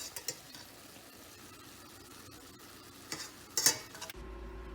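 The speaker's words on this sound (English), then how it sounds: "we're going to brown the meat in a large skillet over medium-high heat" Meat browns in a large skillet over medium-high heat for a quick chili, giving a steady low sizzle with occasional scrapes and clinks of stirring close by, then cutting off near the end.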